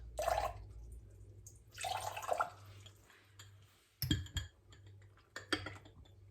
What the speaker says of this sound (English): I'm just going to tip a bit of water out